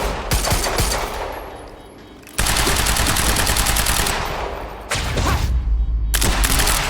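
Sustained automatic gunfire in the video game Quantum Break, loud, dense bursts that stop abruptly, resume after a short lull and roll on with rapid overlapping shots.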